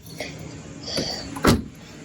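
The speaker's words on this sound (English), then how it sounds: "The door doesn't sound very good" Door of a ten-year-old VW Passat being worked, giving a sharp mechanical clack near the middle and another loud rattling thunk shortly after, with faint knocks around them; the door sounds worn and loose.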